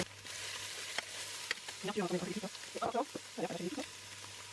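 A vegan soy and pea protein scramble with added cheese fries in a pan, a soft continuous sizzle with occasional stirring scrapes, while a person speaks in short phrases over it.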